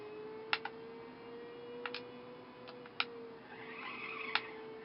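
Go-kart tires in a video game screech in short, sharp bursts during drifts, several scattered chirps over a steady engine drone at moderate level.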